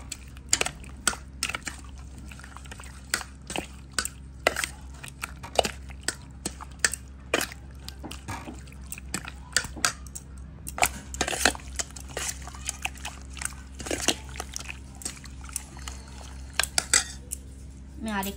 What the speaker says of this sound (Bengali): সব কিছু মশলা ভালোভাবে মিক্স করে নেব